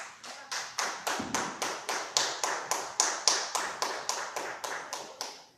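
Steady rhythmic clapping from a church congregation, about three claps per second, evenly paced like a group clapping in unison, moderately loud with no talking.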